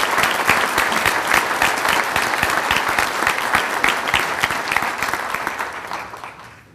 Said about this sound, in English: let's give them a round of applause that they can hear all the way